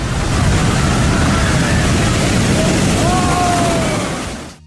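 Ocean waves crash at Lumahai beach on Kauai, Hawaii, making a steady, loud broadband roar of surf and wash that holds for several seconds and then fades out at the end.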